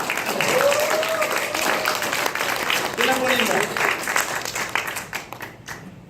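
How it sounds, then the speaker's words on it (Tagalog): A church congregation claps loudly for the Lord during a sermon, the applause running throughout at fairly close range while a voice speaks over it. "Palakpakan natin muna ang Panginoon. Yung malakas na palakpak. Yung mas malakas pa."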